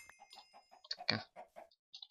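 A run of repeated chicken clucks from Minecraft mobs, the short game-sound calls coming in quick succession at moderate volume with no voices over them.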